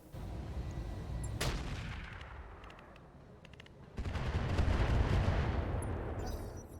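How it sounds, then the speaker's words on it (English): Artillery fire in the mech video game RogueTech: a sharp blast lands early, then a second heavy boom rolls into a long, loud rumble that gradually fades. "we're going to continue hitting the Pendragon with artillery"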